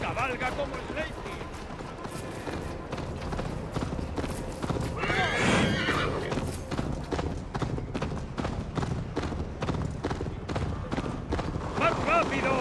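A horse gallops in Assassin's Creed Valhalla with rapid, rhythmic hoofbeats and neighs once or twice, while voices shout in Spanish over the steady pounding.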